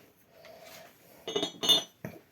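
A Polonne porcelain apple-pattern tea set is unpacked, its teapot and lid knocking together in a few bright, close ceramic clinks after a quiet rustle, with no voice over them.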